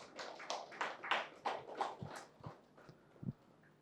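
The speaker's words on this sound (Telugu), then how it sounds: "క్లాప్స్ టు ఆ దైవస్థితికి క్లాప్స్ కొడతాం" Workshop audience clapping for a few seconds, a moderately faint, loose burst of handclaps that thins out toward the end, with no talk over it.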